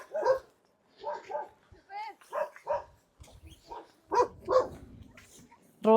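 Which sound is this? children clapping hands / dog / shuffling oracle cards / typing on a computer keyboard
dog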